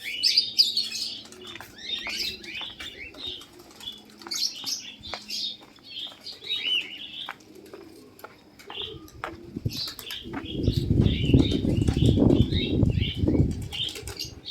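Small birds chirp and tweet in a school aviary in frequent bright bursts, with pigeons or doves cooing faintly. Loud wing flapping rises near the end as several birds take off close by.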